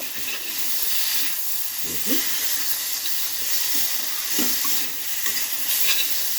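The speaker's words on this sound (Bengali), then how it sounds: "একটু ভালো করে মশলার সঙ্গে আলু বেগুনটাকে কষিয়ে নেব।" Potatoes and eggplant sautéing with spices in a pan, a loud continuous hiss and sizzle with occasional scraping stirs, close up and with no talking.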